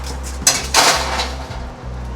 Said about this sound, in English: And I'm gonna put this tray under.